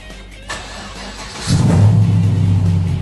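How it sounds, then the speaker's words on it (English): A car engine idles while warming up to operating temperature, starting as a low steady hum and then swelling into a louder, fuller rumble that holds close and continuous. "The first thing we need to do is warm up the engine to operating temperature."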